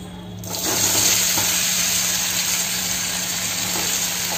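Taro dropped into hot oil with cumin and turmeric, bursting into a loud, steady sizzle that rises suddenly and then holds, close and without talk.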